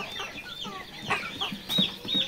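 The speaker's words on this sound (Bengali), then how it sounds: "এখানে দেশি রয়েছে, লেয়ার রয়েছে এবং ফার্মি মিশরি মুরগি রয়েছে।" Desi, layer and Fayoumi Misri hens cluck and chatter together on a poultry farm, a steady flock murmur with a few louder, nearer clucks near the end.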